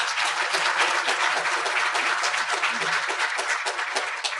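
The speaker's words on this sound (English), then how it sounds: "So could we give them a round of applause?" An audience breaks into a brief, full round of applause for three women of the LAPD, steady and even with no talking over it.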